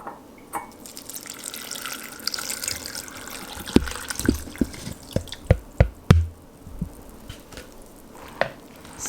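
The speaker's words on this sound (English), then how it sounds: "I'm putting the raisins and the water in a medium" Water pouring and splashing into a medium saucepan, followed by a series of sharp drips and clinks of raisins dropping in, close by.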